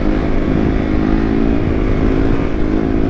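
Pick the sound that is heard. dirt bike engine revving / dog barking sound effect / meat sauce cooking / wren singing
dirt bike engine revving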